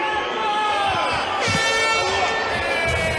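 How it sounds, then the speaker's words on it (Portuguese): A loud air horn blares for a moment, ending a fight round, over a noisy, cheering crowd at a fighting event. "Aí soou a buzina."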